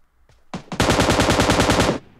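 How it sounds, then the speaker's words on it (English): Automatic weapon fire in the mobile shooter game PUBG Mobile: a couple of single shots, then a rapid, loud, evenly spaced burst of about a dozen rounds, close and with no talking. "So many gunshots."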